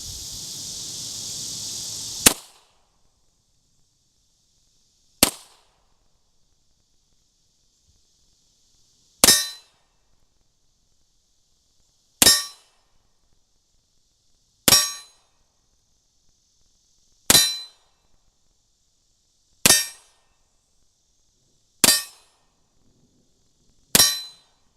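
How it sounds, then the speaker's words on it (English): Beretta 92 pistol in .40 Smith & Wesson firing 165-grain rounds at a steel target 25 feet away, sharp single shots each ringing off the steel, spaced a few seconds apart, about eight in all. "We're going to shoot it down at the steel target."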